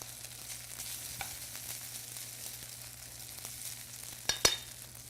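Asparagus stirred into par-cooked rice in a hot restaurant pan, a continuous close sizzle with soft scraping stir movements, ending in a couple of sharp metallic clinks near the end.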